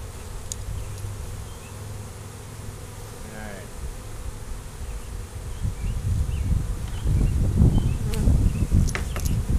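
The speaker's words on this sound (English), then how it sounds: "So yeah, we got a lot of bees flying around." A caught honeybee swarm being settled into hive boxes, with a steady close buzz of many bees that grows louder and denser toward the end, with scattered soft handling knocks.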